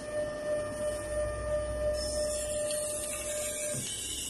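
Steady whirring and whining of an automatic voice-controlled cake icing machine as it moves back to its home position, one motor tone shifting about halfway through and a steady hum running throughout, with no talking.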